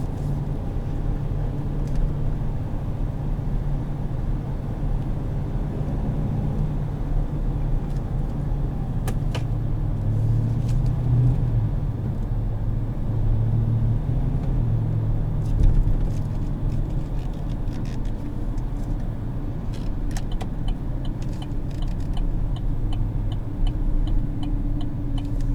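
A 2017 Chevrolet Silverado 2500HD with a 6.0 engine, cruising with a steady low throaty drone heard from inside the cab, with faint clicks and rattles over it.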